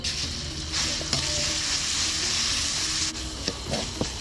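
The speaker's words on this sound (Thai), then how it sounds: "เครื่องพริกที่เขาตำไว้เอาลงไปคั่วเลยครับ" Paste sizzles and crackles in hot oil as it is stirred, a steady frying hiss with occasional scraping clicks, close and fairly loud.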